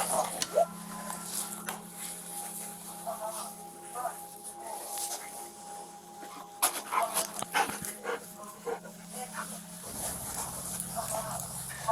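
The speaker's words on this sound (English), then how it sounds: "maybe you just need to send the dog first" A detection dog searches a laundry room, giving soft, intermittent whimpers and small yips amid quiet room noise, with faint human voices in the background.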